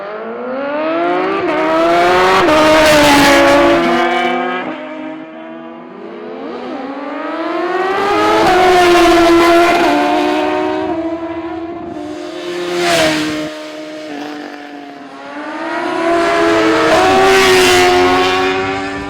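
Superbikes racing down a drag strip at an organized quarter-mile event, their loud engines wailing as they rise and fall through several surging passes, close and heard without talk.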